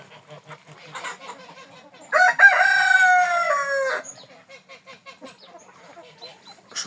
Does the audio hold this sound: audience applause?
no